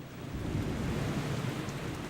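Heavy rain falls steadily as a dense, even hiss with a low rumble beneath it, continuous and moderately quiet, in the stormy setting of an airport air disaster in São Paulo. No voices are heard.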